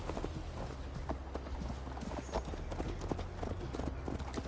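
Horse hooves clip-clopping steadily while riding in Assassin's Creed Valhalla, a brisk continuous clatter of hoofbeats close by, with faint background ambience and no talking over it.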